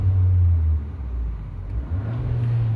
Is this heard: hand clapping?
no